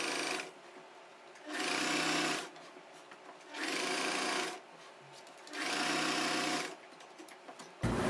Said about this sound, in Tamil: இதை வந்து நம்ம தைக்கும் போது முதல்ல தொடங்கும் போது ஒரு லாக் ஸ்டிச் போட்டு தொடங்கும்.